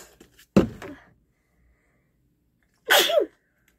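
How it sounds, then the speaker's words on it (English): A single sharp human sneeze during a morning skincare and haircare routine, preceded by brief rustling and a short burst of sound, then a quiet pause. "I had a little sneeze in there"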